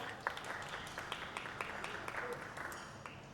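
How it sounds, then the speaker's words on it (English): Audience applause at a workshop session, steady distant clapping from a crowd with sharper claps poking through, fairly faint and even throughout. "give yourselves a big round of applause for being here."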